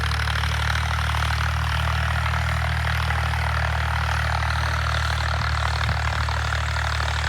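A tractor engine drones steadily and loudly while ploughing a field, a constant low throbbing hum with no pauses.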